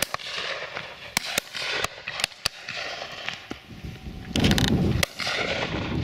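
Shotgun reports at a driven partridge shoot, outdoors: a rapid series of sharp, loud blasts, several close together, over a constant field background with a louder rustling burst midway.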